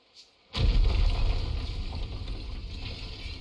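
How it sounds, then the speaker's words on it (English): A sudden explosion in the video game Ni no Kuni 2 bursts in as a deep booming rumble, then rolls on as a long, loud roar that fades only slightly and carries no voices. "Was that an explosion?"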